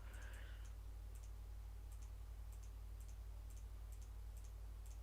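A random spinning wheel ticking as it turns, quiet rhythmic clicks in small clusters against a steady low hum, with no talking.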